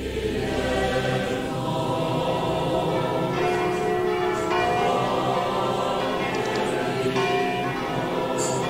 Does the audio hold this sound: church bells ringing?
yes